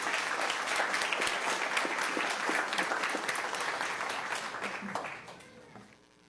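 Applause from an audience at a school district board meeting, a steady wash of many hands clapping that holds for several seconds and then thins and fades out near the end.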